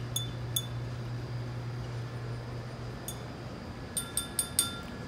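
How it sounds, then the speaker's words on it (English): A spoon clinks against a glass while stirring Irish coffee, giving a few bright, isolated taps followed by a quick series of four or five close clinks over a low steady hum. "Now we're going to stir our mixture."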